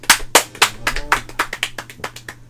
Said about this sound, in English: Loud clapping. Sorry, headphone users.